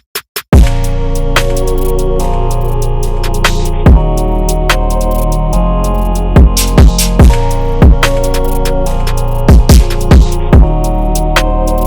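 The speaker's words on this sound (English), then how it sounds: "Then we have a second snare backing up the first one." Layered snare hits from the drums of a beat, with a second snare backing the first, cracking sharply in a syncopated pattern over a deep, sustained bass and dense backing, loud and up front with no voices.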